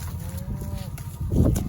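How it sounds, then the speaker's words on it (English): A cow on a farm, waiting by a pen for alfalfa, gives one short, close moo that ends in a lower, louder grunt. "This cow wants the alfalfa."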